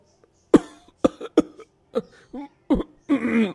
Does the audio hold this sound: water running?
no